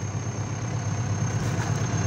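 An Ursus C385 turbo tractor engine pulling a wide-tined cultivator at about 20 cm depth in no-till field work, a steady loud low drone under strain with a constant high whine, no talking.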